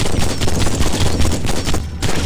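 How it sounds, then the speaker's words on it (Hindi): Machine gun fire in a horror video game, a loud, dense, continuous stream of rapid shots filling the whole moment with no pause. "मशीन गन लेके देखिए मैं निकला।"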